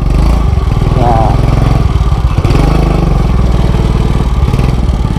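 A motorcycle engine runs loud and close in a steady, throbbing idle that continues without break throughout.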